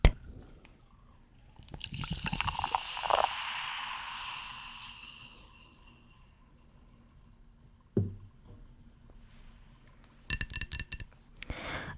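British soda pop poured into a glass: a fizzing pour with a bright hiss and gurgle for a few seconds, followed by glassy clinks and taps near the end, close and fairly quiet.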